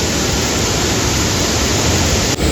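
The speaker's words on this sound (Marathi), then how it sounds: "इथनं पाणी वरती चढतं आता पुलाच्या" Floodwater from heavy monsoon rain surges over a bridge, a dense, steady roar of rushing water that stays loud and close without a break.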